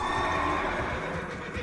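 A horse neighs in World of Warcraft Classic as a mount is summoned in the Alterac Mountains, a short, close, loud whinny over steady game ambience.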